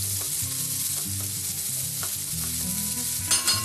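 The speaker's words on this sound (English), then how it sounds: "because the cabbage takes such a long time to saute" Red cabbage with onion and bacon sautéing in a skillet gives a steady, close sizzle with occasional stirring scrapes, running under continuous background music.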